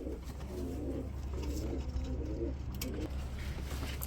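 Rajgolla and Lahori pigeons coo softly in a pen, several low, rolling coos repeating in a steady rhythm over a faint background hum.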